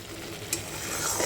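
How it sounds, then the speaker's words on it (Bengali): Spice paste being stirred and fried in oil over a low flame for a vegetarian dish, with a steady broadband sizzle and scraping, one sharp clack partway through, and no talking. "চলো খুব ভালোভাবে নাড়িয়ে নিই"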